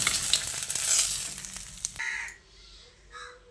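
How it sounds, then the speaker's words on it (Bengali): Cauliflower florets frying in oil in a wok make a close, dense crackling sizzle that cuts off abruptly partway through, leaving a quieter background with a brief faint scrape. "বাকি ফুলকপিগুলোকে ভেজে আমি তুলে নিচ্ছি"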